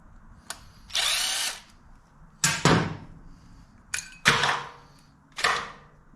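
A 1/4 inch socket on a power tool buzzes in about five short bursts while removing the rear brake caliper pin on a 2013 Harley-Davidson Fat Bob, each burst sharp and close with quiet gaps between.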